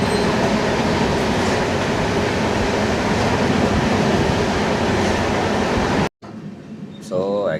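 Inside a passenger train on the Secunderabad to Rajahmundry route, a loud, steady rumble of wheels on rails fills most of the stretch, then cuts off abruptly near the end, followed by quieter cabin sound and a brief squeal-like tone.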